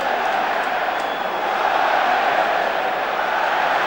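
Football stadium crowd at an Auxerre v Liverpool match roaring, a dense, sustained wash of noise that holds steady throughout and swells slightly in the middle.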